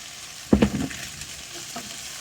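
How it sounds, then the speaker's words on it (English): Hamburger meat and potatoes fry in a skillet with a soft, steady sizzle, broken near the start by a louder scraping stir of a utensil, heard close with no talking. "You can hear this frying up good."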